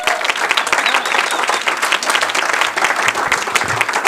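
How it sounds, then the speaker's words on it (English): Steady, dense applause from a crowd at a school board meeting honoring student athletes, loud and continuous throughout with no pauses. "Let's give these young student athletes a round of applause"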